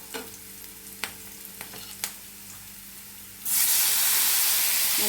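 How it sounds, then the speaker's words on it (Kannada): Chopped tomatoes tipped into a pan of fried onions, with scattered clinks and stirring over a low hum, then a loud, steady sizzle bursts up and continues to the end. "ಈರುಳ್ಳಿ ಎಲ್ಲ ಚೆನ್ನಾಗಿ ಬೆಂದಿದೆ ಈಗಿದಕ್ಕೆ ಟೊಮೊಟೊ ಹಾಕ್ತೀನಿ"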